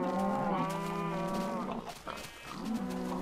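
Cows in the Minecraft video game moo repeatedly, long drawn-out lowing calls overlapping one another, clear and close with no talk.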